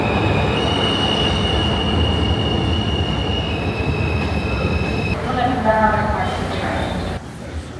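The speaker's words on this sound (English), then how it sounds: "This building here is the subway." A New York City subway train in a station, rumbling steadily with high metallic wheel squeal and tonal whine, loud throughout and tapering near the end, with people talking over it.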